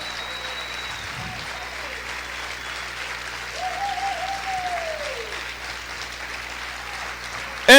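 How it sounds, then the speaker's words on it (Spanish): Sustained applause from a church congregation praising the Lord at a worship service, steady and moderate, swelling slightly midway, with faint voices under it and a loud burst at the very end. "Vamos a aplaudir fuerte al Señor en esta hora"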